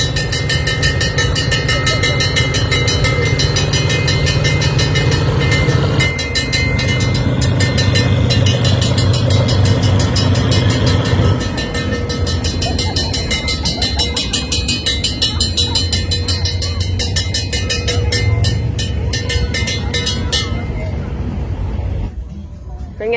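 A train rumbles past a trackside cafe in Kanchanaburi, Thailand, close by for a long stretch, a steady heavy clatter of wheels and cars, with voices chattering faintly underneath.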